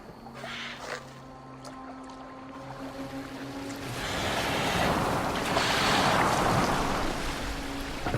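Viking longship moving across open water in Assassin's Creed Valhalla, a steady wash of waves and hull splashing that swells louder midway, with a low tonal music drone underneath and no talking.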